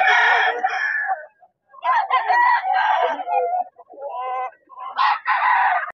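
A rooster crows repeatedly and loudly at a chicken seller's stall, several long strained calls following one another closely with only brief gaps between them.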